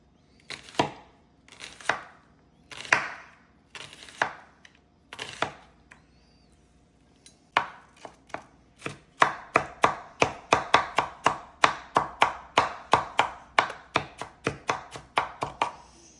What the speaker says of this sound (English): Also slice the onion very thin.